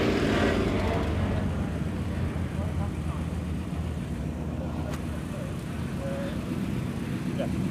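Classic cars roll past at the 1000 Classics show at Cholmondeley Castle, including Morris Minors, a Triumph Stag and a Vauxhall HB Viva, as a continuous outdoor rumble of engines and traffic with background chatter.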